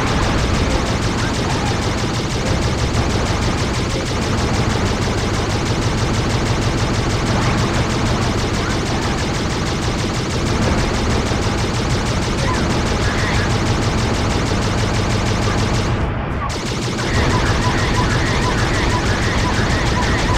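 Turret gunfire in the Ben 10 Ultimate Alien Cosmic Destruction video game, a loud, dense, continuous stream of rapid shots that runs almost without a break, with one short gap near the end.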